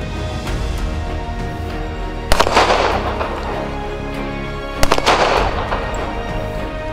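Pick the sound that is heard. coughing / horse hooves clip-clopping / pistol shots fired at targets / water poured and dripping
pistol shots fired at targets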